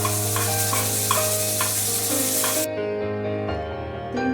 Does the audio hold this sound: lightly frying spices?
yes